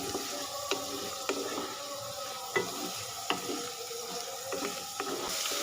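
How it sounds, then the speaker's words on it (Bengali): Potatoes frying in oil for a banana-flower (mocha) and egg dish, a steady close sizzle with periodic clinks and scrapes of stirring, no talk. "শুধু আলুগুলোকে ভেজে তুলে নিব"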